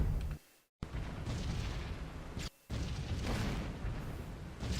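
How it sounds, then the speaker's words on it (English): Flak shells burst around a B-17 bomber in a flight game, a dense rumbling barrage of booms that fills the air, broken by two brief silent gaps. "the flak can open up"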